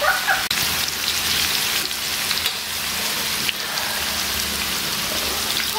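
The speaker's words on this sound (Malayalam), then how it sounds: "അപ്പൊ എണ്ണ ചൂടായി വന്നിട്ടുണ്ട്. നമുക്കിനി കുറേശ്ശെ ആയിട്ടൊന്ന് വറുത്തെടുക്കാം." Fish pieces frying in hot oil for pickle, a loud, continuous close-up sizzle with a dense crackle that holds steady throughout.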